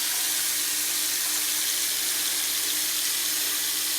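Water runs in a steady, even rush from a tap while something is rinsed at a sink, continuous and close throughout with no other sounds.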